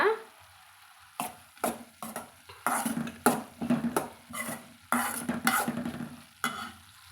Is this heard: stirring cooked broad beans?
yes